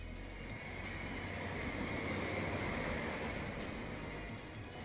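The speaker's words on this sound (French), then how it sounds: "on va le mettre à 80 pour qu'on comprenne bien que voilà, le tram, il passe devant nous" A tram passing by makes a steady, broad rumble and rush that holds for several seconds at a moderate distance, fairly quiet and unbroken, with no voices.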